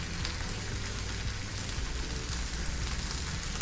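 Spinach sautéing in a pan with chopped green chillies for a paneer spinach omelette, giving a steady, faint hiss with no breaks.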